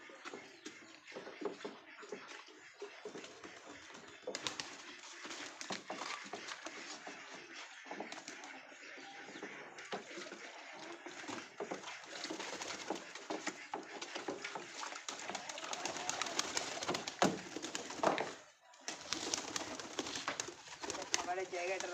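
Pigeons in a loft cooing and shuffling, repeated soft coos under close handling noises and movement, with a person talking at times.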